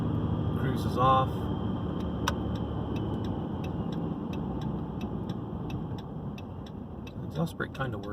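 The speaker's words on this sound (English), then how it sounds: "The exhaust brake kind of works." A 2012 Ram truck cruising at highway speed with its exhaust brake engaged and a failed variable-geometry turbo, giving a steady low engine drone and road rumble inside the cab, with faint ticking and a voice briefly speaking.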